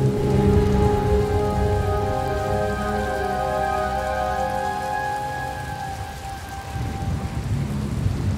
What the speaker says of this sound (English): Hard to track them through the storm. Rain's wiped out the trail.